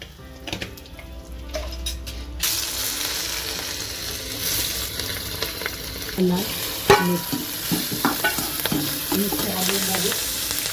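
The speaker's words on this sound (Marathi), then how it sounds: "तर ते तेल छान गरम करून घेतलंय, त्यानंतर त्यामध्ये गेलं हिंग" Asafoetida dropped into hot oil for Nashik-style methi curry, giving a steady broadband sizzle that swells after the first couple of seconds, with scraping stir strokes and clinks of a spoon against the pan throughout.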